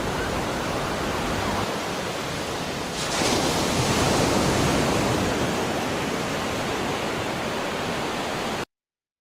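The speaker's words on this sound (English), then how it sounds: "you could kind of hear the waves, the sound of the waves starting to ramp up" Ocean waves washing onto a beach, a steady broadband surf wash that swells a little louder partway through and then carries on evenly, with no voices.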